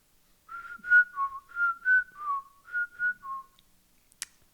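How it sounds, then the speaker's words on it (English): A person whistles a melodic riff from an upcoming record, a clear, close tune of about a dozen short phrased notes with small pitch dips, alone with no talking. "I can whistle, though."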